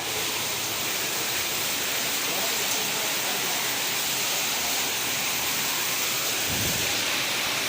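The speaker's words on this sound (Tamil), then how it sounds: "இப்படி மழை பெய்யுது" Heavy rain pours down in a dense, constant roar, loud and close, with a brief low rumble near the end.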